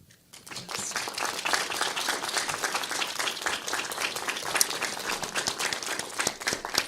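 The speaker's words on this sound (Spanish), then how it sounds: "Y un aplauso muy grande." Audience applause at an international conference on Mexico-Japan art and culture, starting abruptly and continuing as dense, steady clapping from a sizable crowd.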